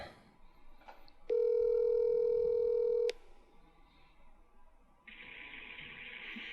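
A telephone call ringing out to voicemail is heard as a single steady electronic ring tone lasting about two seconds, loud and clear over quiet room noise, followed by a faint hiss.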